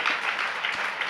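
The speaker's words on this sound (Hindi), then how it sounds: "इनको ताली बजा दें" Brief burst of audience clapping at a religious discourse gathering, a short steady patter of applause of moderate loudness.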